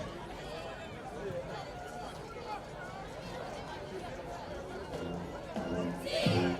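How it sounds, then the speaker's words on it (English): Spectators at a high school football game make a faint, continuous murmur of overlapping voices, distant and diffuse, with a slight rise in activity toward the end. "the crowd is here now"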